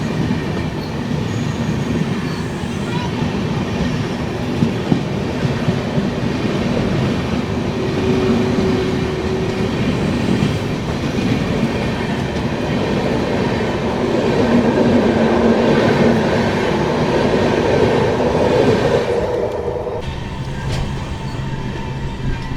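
Narasapur–Tirupati weekly express train running at speed, heard from on board as a loud continuous rumble with clickety-clack and occasional squealing wheels, easing off briefly near the end.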